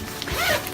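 Zipper on a compartment of a backpack used as a diaper bag, one short close zip pulled along the track, heard alone.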